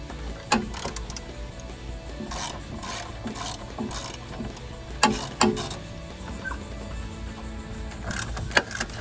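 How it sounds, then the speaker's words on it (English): Ratchet drive with an extension and 11mm socket turning radiator screws on a Jeep Wrangler, close and mechanical, with repeated clicking ratchet strokes and rubbing scrapes in irregular bursts, no talk. "You're gonna use a drive and an extension with an 11mm."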